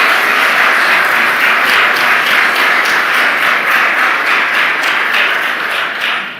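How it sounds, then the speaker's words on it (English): A large audience applauds the U.S. Treasury Secretary at a public event, with loud, dense clapping that holds steady throughout and fades slightly at the end. "Can I get a round of applause for our Treasury Secretary?"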